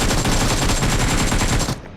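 Rapid automatic gunfire in the mobile battle-royale game PUBG Mobile rattles out as a dense, loud, continuous stream of shots that cuts off abruptly just before the end.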